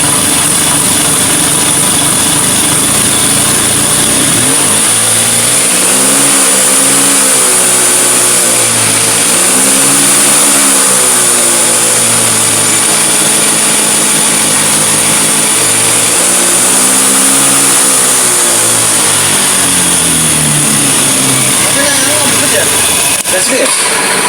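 A Vespa Sprint scooter engine revs hard at high throttle, loud and close, its buzzing two-stroke pitch rising and falling through several throttle swells over about twenty seconds.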